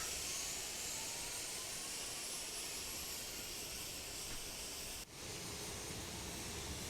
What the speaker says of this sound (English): You hear the engine sound, sounds really good.